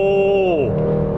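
A Hyundai Sonata 1.6 turbo in sport mode accelerates hard, a loud close engine tone sweeping and shifting pitch across the brief moment, with no talking over it.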